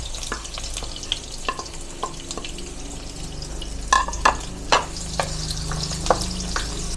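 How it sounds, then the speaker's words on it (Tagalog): Garlic sautéing with onion in a pan, with a steady low sizzle broken by a few sharp stirring clatters of a utensil against the pan. "Siyempre, sunod na natin yung ating bawang."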